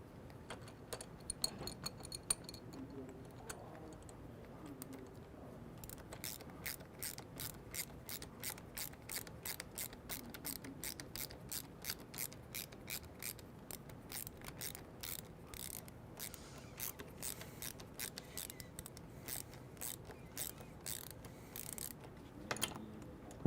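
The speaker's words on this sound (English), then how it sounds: "Use your screwdriver and adjustable wrench to tighten the M3 screws." Rapid, steady metallic ratcheting clicks from a screwdriver and adjustable wrench tightening M3 screws on a Bestop Trektop Glide soft top, a quiet close series of ticks running for many seconds with a few louder clicks near the end.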